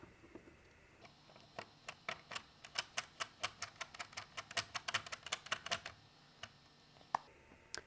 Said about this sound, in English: But these legs just screw on.